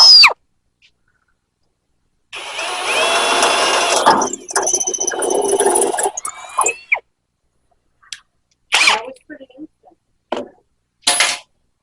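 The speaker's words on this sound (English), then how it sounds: "Handy and dandy cordless drill." Cordless drill boring holes, with several separate bursts of whirring and grinding of varying length and quiet gaps in between, heard up close.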